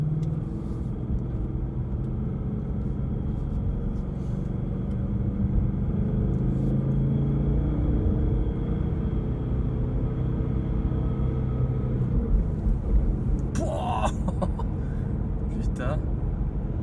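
Ford Mustang GT engine rumbling with a steady low drone on an open road, driven with a manual gearbox, heard from inside the cabin with occasional people talking over it.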